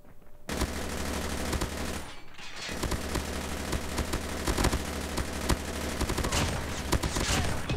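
Akimbo Chopper machine guns fire in a video game as dense, sustained bursts of rapid gunfire, loud and continuous after a brief pause, with no talking.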